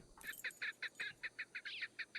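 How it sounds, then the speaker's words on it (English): A white dove calls in the Sherlock Holmes: Nemesis video game, giving a quick series of about a dozen short, evenly spaced chirping notes that sound moderately faint and stand alone. "A bird is hiding in one of the trees."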